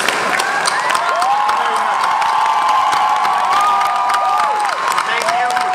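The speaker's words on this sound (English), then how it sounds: "Let's have a round of applause for our panelists." A Comic-Con convention hall audience at the Torchwood panel bursts into loud applause mixed with cheering, whoops and shouts. The noise is dense and sustained from start to finish, with voices rising above the clapping.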